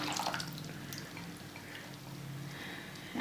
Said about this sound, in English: Now quickly we will just add this solution